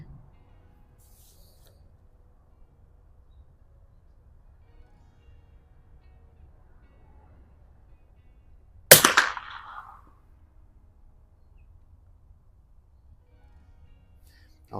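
A single Mossberg 46B bolt-action rifle shot while plinking at a range, one sharp, loud crack partway through with a short fading tail over an otherwise quiet outdoor background.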